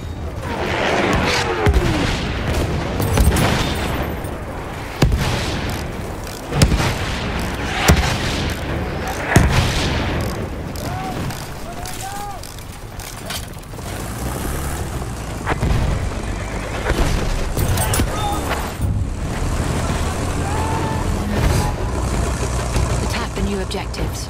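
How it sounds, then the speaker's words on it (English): An enemy artillery barrage in the video game Battlefield 1, with heavy booms and bursts of gunfire scattered throughout, plus frequent loud impacts under a player's ongoing talk. "Wait for the enemy artillery barrage"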